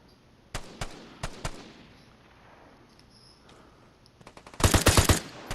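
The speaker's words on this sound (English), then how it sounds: "That one that you're shooting at is still there." Gunfire in the video game Vigor: a few spaced single shots, then a quiet stretch, then a loud rapid burst of automatic fire near the end.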